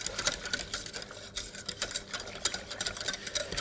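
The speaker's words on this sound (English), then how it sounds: "we're going to use our whisk to actually whisk that milk in" A whisk beats milk into a sauce in a pan in a home kitchen, with rapid, even metallic clicking and scraping strokes close by and no voices.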